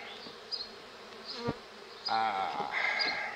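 A honeybee swarm that settled at a hive hums in a continuous buzz, with individual bees passing close and swelling louder toward the end.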